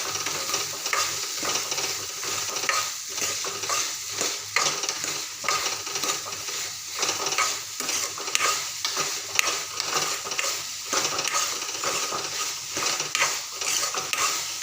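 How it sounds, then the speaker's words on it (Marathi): Green moong bean curry sautéed in a pan, with steady stirring and scraping of a utensil against the pan under a continuous sizzle, close and fairly loud throughout with no talk. "छान मस्त परतून घेऊया मस्त एक एकजीव होईपर्यंत"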